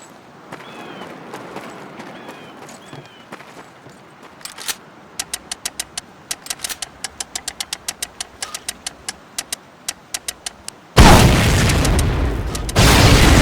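A mortar shell bursts on a truck during a Medal of Honor Pacific Assault training exercise, a sudden loud blast with a noisy roar after a run of sharp, evenly spaced impacts.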